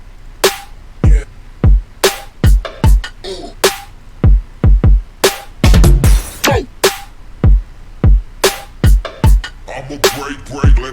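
Electronic music drum pattern with effects, made of punchy, irregular hits with bright noisy tails and short gaps between them, loud and close.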